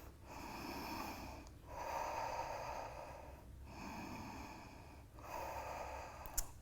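Slow, deep yoga breaths at close range, each long airy exhale swelling and then dropping into a short pause, three full cycles in a row, steady and fairly soft, with no talking.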